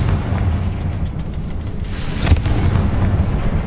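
A Confringo spell explodes in Hogwarts Legacy, a deep rumbling blast under a steady low roar, with a sharper burst cracking through midway and the rumble lingering afterward.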